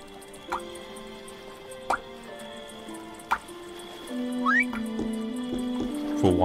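Water drips into a jug in the video game The Supper: a few distinct, hollow drops fall at uneven intervals, then a quick run of bright trickling notes over soft, sustained game music.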